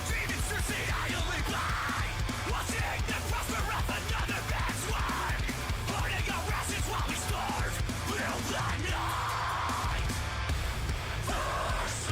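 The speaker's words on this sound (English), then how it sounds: "those layered screams" Layered screaming vocals from a live performance of a metalcore song, harsh and continuous over dense, loud distorted guitars and drums throughout.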